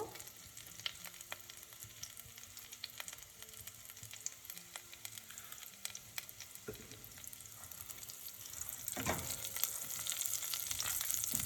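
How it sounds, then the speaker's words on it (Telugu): Spices for tempering, with asafoetida added, fry in hot oil for an Andhra thali. A quiet, steady crackling sizzle carries on throughout, with an occasional stir and a slight swell near the end. "ఇవి మంచిగా వేగిపోయాయి"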